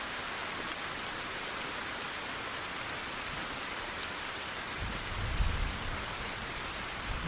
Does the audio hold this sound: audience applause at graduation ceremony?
no